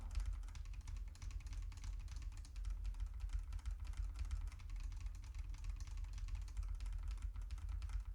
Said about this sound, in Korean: 나한테 키보드 소리 개 좋잖아요?